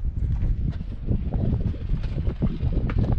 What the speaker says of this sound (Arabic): ولكن كاين الريح ما عرفتش واش غتسمعوا شي حاجه ولا لا.